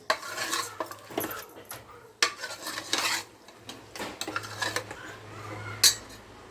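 Chicken curry with spices being mixed in a metal pan, a spoon clanking and scraping against the sides in irregular strokes over a faint sizzle, with no voices.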